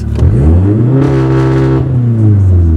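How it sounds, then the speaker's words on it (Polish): A car held on brake and throttle with launch control revs hard, the engine note climbing steeply, then pulls away with a steady loud engine drone close by and no talk over it. "No i wiadomo, puszczamy hamulec, auto rusza."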